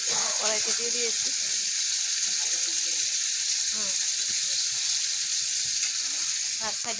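Cut taro pieces fry in oil in a wok with a constant crackling sizzle throughout, while a voice speaks intermittently over it.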